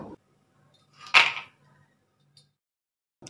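A single crisp crunch of crispy fried Madan Katkati (monakka) snack, one short bright snap that fades quickly, close and alone in an otherwise quiet room.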